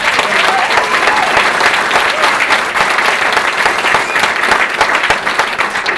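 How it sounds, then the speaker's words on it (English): A crowd at a county commission meeting applauds steadily throughout, dense and loud, with many hands clapping at once in a sustained wash of sound. "Let's hear a clap if it is."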